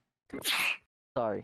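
One quick, close human sneeze with a breathy burst, followed by a person briefly speaking, at a tabletop role-playing game session.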